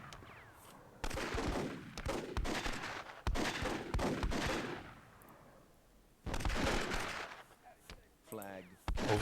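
RPG and gunfire in the WWII-themed Myth II Soulblighter multiplayer match on open plains: bursts of rapid shots and sharp blasts in clusters separated by quieter gaps, with distant battle noise between.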